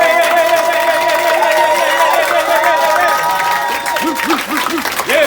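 A crowd at a funk and soul jam in a Paris cellar club applauds and cheers loudly and continuously, with whoops and chatter mixed into a dense wash of clapping.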